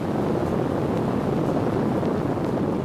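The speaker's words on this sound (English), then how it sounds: "This is the noise produced by the LEM's ascent engine during a ground test." An Apollo lunar module ascent engine fired in a ground test, a continuous loud, rushing low roar with a dense, steady rumble and no break.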